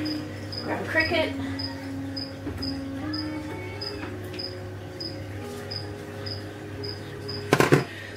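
A cricket chirps in short, evenly spaced bursts, close and clear, against a quiet indoor hum at an Australian bird-eating spider feeding setup, with a few brief handling clatters.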